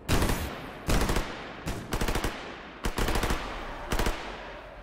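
Gunfire in S.T.A.L.K.E.R. GAMMA, several loud close bursts of automatic fire separated by short pauses, with rapid cracks in each burst.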